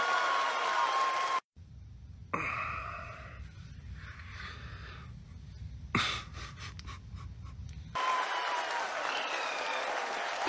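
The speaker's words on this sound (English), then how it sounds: "people are applauding" People applaud as ISRO's lunar lander module nears the lunar surface: crowd clapping opens and closes the stretch, broken in the middle by a quieter, breathy, noisy passage with faint rustling.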